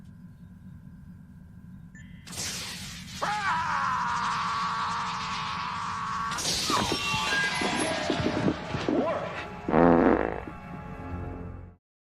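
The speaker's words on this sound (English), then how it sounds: "I bet that fart felt really good" A long, drawn-out fart from Worf in a Star Trek: Strange New Worlds episode, loud and buzzy with shifting pitch, followed by a final sputtering burst before it cuts off.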